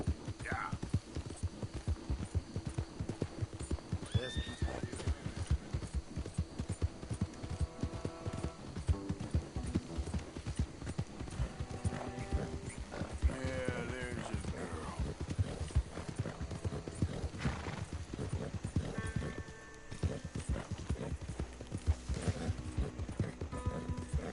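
Steady clip-clopping hooves trot throughout, with a horse neighing a couple of times and faint voices and music mixed underneath.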